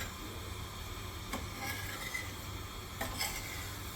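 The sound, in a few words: stirring spices heated in a pan for Gujarati carrot pickle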